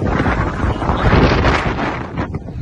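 Strong storm wind from a hurricane in the Netherlands, with gusts up to 120 km per hour, roars loud and continuous, blasting across the microphone with a dense, rumbling rush.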